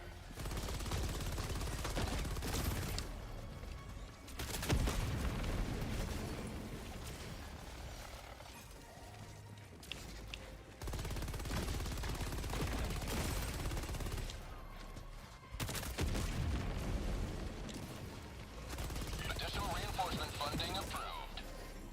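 Helldivers 2 gameplay with dense bursts of automatic gunfire and explosions, loud and sustained across most of the stretch, broken by brief lulls, with a voice talking over parts of it.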